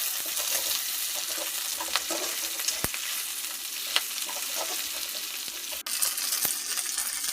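Curry leaves frying and being stirred in a pan over low heat, a steady close crackling sizzle throughout with a few sharp spoon clinks and scrapes against the metal.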